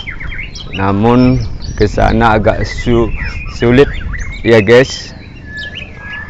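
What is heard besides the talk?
songbirds singing at a bird-song contest, murai, kacir, lovebird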